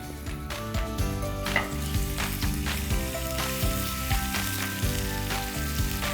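Ginger and green chili paste hits hot oil in a pan for a stuffed batti filling, giving a bright, steady sizzle with sharp crackles and stirring clicks, close and loud, with a low tonal hum underneath.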